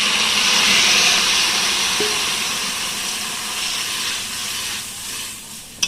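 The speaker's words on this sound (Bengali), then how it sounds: "এবার আমি জল দিয়ে দিচ্ছি" Water poured into a pan of spices frying in goat fat with chickpeas bursts into a loud, steady steaming hiss that slowly fades over several seconds, with no talking.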